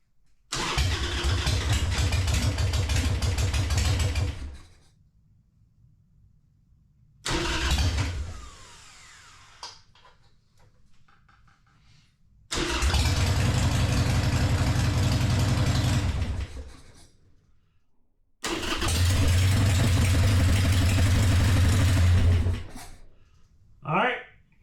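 Harley-Davidson Sportster motorcycle engine cranking in several loud bursts of a few seconds each, separated by quiet pauses, the starter churning with a low rough rumble before each stop; no voices heard.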